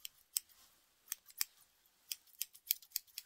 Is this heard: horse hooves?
no